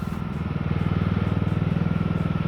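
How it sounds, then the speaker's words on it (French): A green and yellow John Deere tractor chugs along with a fast, even engine beat, close and steady, with a rattling clatter over the throb. "Il m'a proposé de l'essayer, un beau tracteur vert et jaune John Deere."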